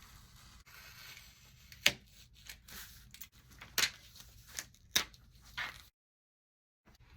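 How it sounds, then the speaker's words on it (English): A utility knife slicing along the edge of a calendar page, a series of short crisp scraping cuts at irregular intervals, close and fairly quiet, ending in silence. "I'm going to use my utility knife to cut along the edge"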